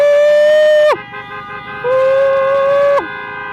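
Loud, sustained vehicle horns blare in two long blasts, each holding a steady tone before dropping off abruptly, with traffic noise between them.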